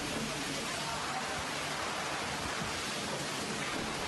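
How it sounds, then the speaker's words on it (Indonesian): Heavy rain lashes down with strong wind in Madiun Regency, East Java, a dense, unbroken hiss of downpour that stays steady and moderately loud throughout, without talk. "hujan deras disertai angin kencang menerjang Kabupaten Madiun"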